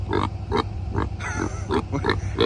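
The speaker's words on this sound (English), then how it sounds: "I came to visit the pigs." Pigs on a farm grunt in a steady, rhythmic series of short, close snorts over a low constant hum, with no talk over them.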